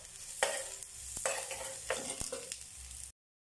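Garlic and onion sauté in a pan for mechado, with a soft sizzle broken by several sharp scrapes and clinks of a spatula stirring against the pan, close and brief.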